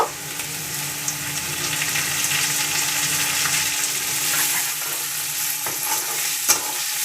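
Tomato frying in a pan for home-style chow mein, a dense continuous sizzle with a few spatula stirs and one sharper clack near the end, up close and without voices.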